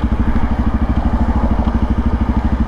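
A Kawasaki KLX 400 motorcycle thumps along on a test ride, its single-cylinder engine pulsing in a steady, loud low rhythm right at the mic, with wind rush over the top and no speech.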